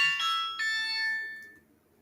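A phone ringtone chimes loudly for about a second and a half in a quiet room, a bright repeating electronic tone that then fades out with no talking.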